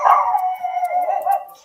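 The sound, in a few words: pug dog barking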